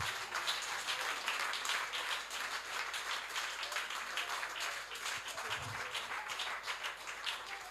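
A church congregation applauding in praise, continuous brisk clapping from many people at moderate distance, steady and unbroken throughout.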